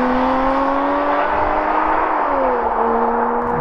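A Porsche 718 Spyder's naturally aspirated engine hums close and steady as driving begins, a smooth tonal drone with a slight pitch dip and rise, loud and alone.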